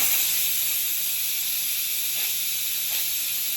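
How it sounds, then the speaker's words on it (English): Steam hissing out of an Instant Pot's pressure release valve, a steady loud, close, continuous jet that carries on without pause and with no voices. "The steam that's gonna come out of here is super duper hot."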